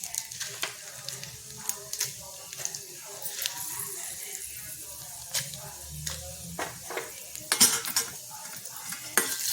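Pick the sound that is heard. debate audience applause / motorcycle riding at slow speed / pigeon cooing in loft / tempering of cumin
tempering of cumin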